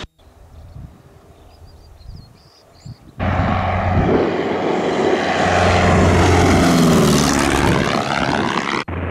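A propeller airplane rolling down the runway in a crosswind, a trailing cone streaming behind it: quiet cabin rumble at first, then the engine surges abruptly to a loud, steady droning roar with whining tones that holds to the end.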